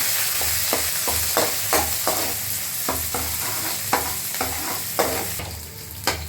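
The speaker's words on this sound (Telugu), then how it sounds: "పచ్చిమిరకాయ, రైస్, కొంచెం కరివేపాకు, కొంచెం వేపుకుందాం." Green chilies, rice and curry leaves frying in a pan for tomato rice, with a continuous sizzle and regular stirring scrapes of the spoon against the pan, no talking.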